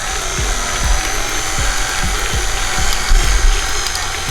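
An electric mixer beating thick cookie cake dough, a steady loud whir with rhythmic knocking thumps as the beaters catch the heavy mass, close-up and continuous with no talking.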